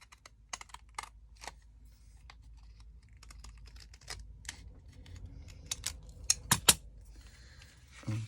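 Hand scissors cut along a drawn line, giving quiet, scattered snips and crisp clicks at irregular intervals, with a small cluster of sharper cuts near the end over a faint background.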